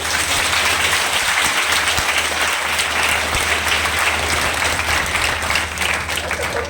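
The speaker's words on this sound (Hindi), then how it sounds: "ऐसा मेरे हाथ हवा में उठा के ताली बजा दिया" A crowd at a poetry recital for a birth anniversary event claps with hands raised, producing a loud, sustained wash of applause with a low hum underneath.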